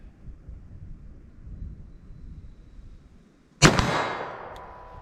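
A single sharp, loud blast from a .38 Special revolver with a 4-inch barrel, fired single action at a ballistic test, breaks out of quiet wind noise outdoors and rings off in a long decaying tail.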